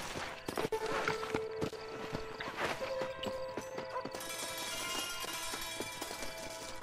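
Hooves clip-clopping at a steady walking pace, fairly close, over a busy layered background of music and ambient game sounds in Red Dead Redemption.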